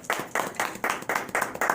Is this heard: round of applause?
yes